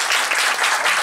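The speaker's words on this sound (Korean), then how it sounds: "박수 부탁드립니다." An indoor audience claps briefly and densely at a Korean panel discussion on baseball attendance, a loud, close burst of applause on its own.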